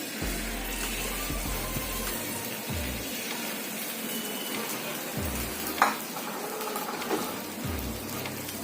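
Beaten eggs sizzle and fry in a pan for gathyachi anda bhurji, with a continuous soft crackle broken by periodic scrapes of stirring, close and steady without talk.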